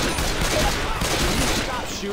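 Sustained gunfire in a video game shootout, a dense, steady burst of overlapping shots running the full two seconds at a loud, even level, with a voice faintly under it.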